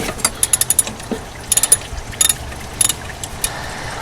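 Ratchet wrench clicking in bursts while loosening a 12mm alternator bolt in the tight engine bay of a Toyota pickup, quick runs of sharp close ticks separated by short pauses, with no talking.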